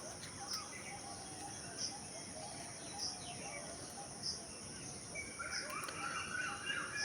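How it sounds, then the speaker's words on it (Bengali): Birds chirp and call intermittently around a rooftop garden where sugarcane grows, with faint, scattered tweets and soft cooing over a quiet outdoor background and a thin steady insect-like hum. "চারিদিকে পাখি ডাকছে"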